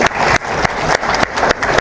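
Loud, dense clapping from an audience at a live dialogue event, a continuous close burst of applause with slight surges, no speech over it.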